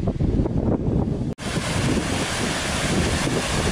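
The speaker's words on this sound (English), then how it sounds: "I thought I could hear flowing water. It's got a raging waterfall right there." A raging waterfall in a misty Welsh mine valley roars as a loud, steady broadband rush, close by and continuous, with a brief cut near the start, no talking.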